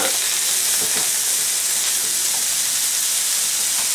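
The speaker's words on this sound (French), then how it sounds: "Faire revenir 2-3 minutes et qu'on va mettre l'ail et les herbes de Provence" Garlic and herbes de Provence sautéing in a hot pan in a home kitchen, a steady close sizzle and crackle of frying running throughout with no voices.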